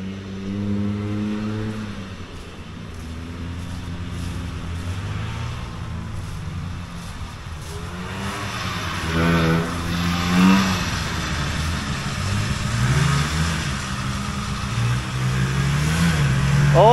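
Vintage Polaris Colt single-cylinder snowmobiles racing on thin snow, their engines droning and revving with rising and falling pitch as they pass, loud and sustained throughout, with no talk.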